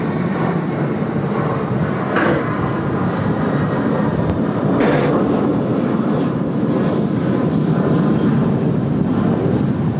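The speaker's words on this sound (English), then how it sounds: "Righto, Vietjet now on the roll, runway 34 left." Vietjet airliner rolling for takeoff on runway 34 left at Sydney Airport, a steady loud roar of jet engines that holds throughout, with a couple of brief higher whines rising over the rumble.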